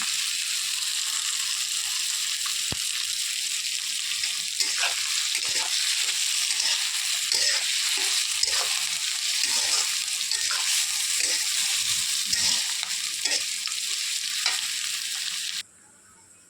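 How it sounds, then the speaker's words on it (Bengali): Onions frying in a pan, a steady bright sizzle with faint scattered crackles and stirring that runs continuously, then cuts off abruptly near the end, with no voices. "পেঁয়াজগুলো দিয়ে ভেজে নেব।"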